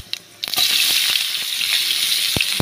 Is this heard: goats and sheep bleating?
no